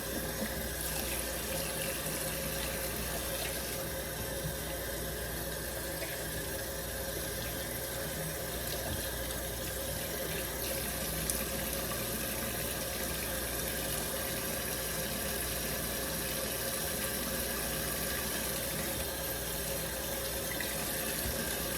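Tap water runs continuously into a sink while hands are washed, a steady close hiss and splash lasting throughout with little change and no talking.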